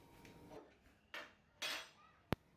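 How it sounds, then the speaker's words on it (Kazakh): A spoon stirs rice, water, oil and salt in a bowl for microwave cooking, with three short scraping swishes and a single sharp clink, quiet and close. "Сұйық майымызды, тұзымызды, күрішімізді сумен жақсылап араластырып аламыз."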